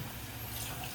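Water poured into a pressure cooker of mutton curry, a soft continuous splashing rush that runs steadily and quietly for a second, with no talk.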